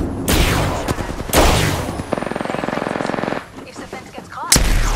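Apex Legends gunfire: loud, close bursts of shots including a rapid automatic volley, with sharp single reports before and after and game sounds between them.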